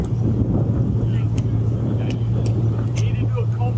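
Hot rod engine running at a cold start, a loud, close, steady low rumble with wind buffeting, and people talking over it.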